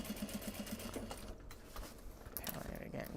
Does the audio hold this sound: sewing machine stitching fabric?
yes